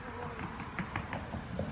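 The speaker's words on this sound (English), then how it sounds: "So we're gonna brush the bees off" Honey bees being brushed off a hive frame into a new hive at a zoo beehive: a dense, close, continuous buzzing swarm with individual bees whining past.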